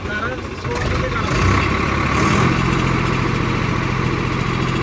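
Tractor engine running steadily while powering a straw reaper, a loud low rumble with a slight rise in revs partway through, with a voice briefly talking over it.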